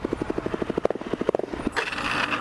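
An LTZ 400 quad bike engine chugs close by with a rapid, even thumping pulse for about one and a half seconds, then breaks into a rougher, noisier burst as it stalls.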